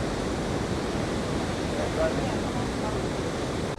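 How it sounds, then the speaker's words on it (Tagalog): Numa Falls in British Columbia roars as a dense, unbroken wall of rushing water that is loud and close throughout. "Ayun, may falls."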